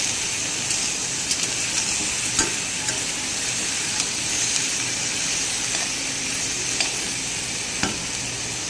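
Boiled jackfruit and potato stir-frying in hot oil in a home kitchen, a continuous close sizzle with occasional clicks and scrapes of a spatula stirring the pan, no talking.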